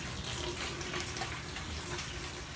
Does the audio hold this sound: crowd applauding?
no